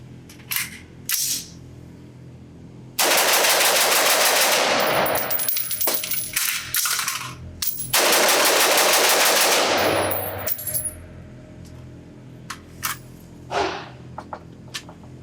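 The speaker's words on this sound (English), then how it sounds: "All right, I can definitely shoot this trigger fast." A Knight's Armament SR-15 E3 Mod 2 rifle fires outdoors on a range, starting with a few single shots, then two long rapid-fire strings of loud, close reports, followed by scattered shots and metallic clinks.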